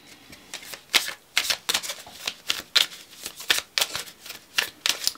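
Oracle cards are shuffled by hand in a quick, crisp riffling rhythm, a dozen or so sharp papery bursts spaced irregularly, close and clear with no talking.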